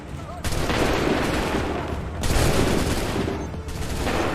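Musket volleys crack out in a battle in Assassin's Creed III, dense bursts of massed gunfire in two long waves with brief gaps, loud and close over a constant battlefield din.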